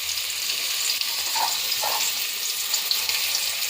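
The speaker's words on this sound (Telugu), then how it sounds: "క్యారెట్ కూడా కొద్దిసేపు వేగాలి." Carrots fry in a pan for Telangana bagara rice, crackling and sizzling steadily up close with a few soft stirring scrapes and no voices.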